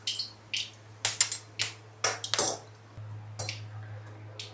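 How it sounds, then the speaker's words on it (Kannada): Mustard seeds and curry leaves crackle in hot coconut oil in a pan for a Kerala fish dish, giving irregular sharp pops and spits over a steady low hum, close by with no talking. "ಚಟಪಟ ಆಗುತ್ತೆ ಇವಾಗ."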